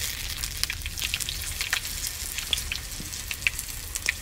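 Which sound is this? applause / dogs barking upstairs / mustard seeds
mustard seeds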